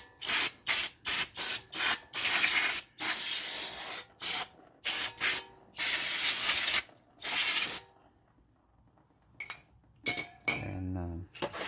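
Aerosol brake cleaner blasts in repeated loud hissing bursts onto the brake assembly behind the backing plate of a 2007–2011 Honda CR-V, followed by metallic clinks of parts being handled.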